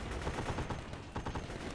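Rapid gunfire crackles through a battle in the video game Warfare, a dense continuous burst of shots with no voices over it.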